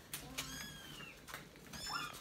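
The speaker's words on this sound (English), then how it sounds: "You got a baby kitty?" Faint, high-pitched kitten meows come several times in short cries, with quiet background noise.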